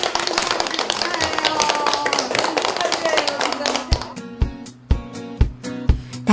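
A small group of people clap together, first in a dense spell of many overlapping claps under talk, then in a few slower, separate, loud claps near the end.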